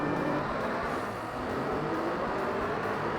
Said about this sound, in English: All these are very loud, these cars.